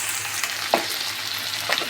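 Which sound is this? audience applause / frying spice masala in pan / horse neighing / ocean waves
frying spice masala in pan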